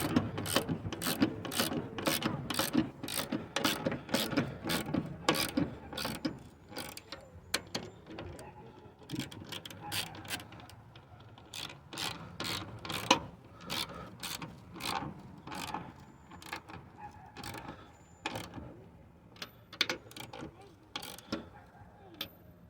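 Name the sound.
ratchet tightening coilover top mount on 93 Civic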